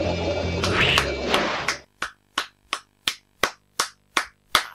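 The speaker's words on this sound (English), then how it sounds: "I'm fucking giving you a clap." A single person claps by hand, about nine sharp, evenly spaced claps that ring out alone after a brief burst of game noise.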